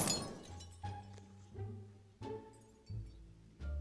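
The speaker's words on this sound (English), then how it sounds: "I'm going to shoot the glass now." Glass shatters when shot in the Granny 3 video game, a sharp crash at the start followed by a series of dull thuds and clinks with faint tonal game sounds beneath.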